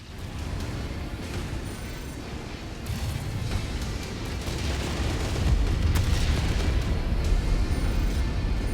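Missile salvos detonate in a mech battle in MechWarrior 5, a dense rumbling barrage of booms and blasts that swells louder toward the end and continues throughout.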